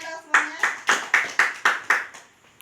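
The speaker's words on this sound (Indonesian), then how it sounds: "Tepuk tangan dong semuanya." A group claps together in seven loud, evenly spaced bursts at a training session on social welfare services for people with disabilities and the elderly, then the clapping stops.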